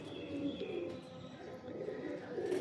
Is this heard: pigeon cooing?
yes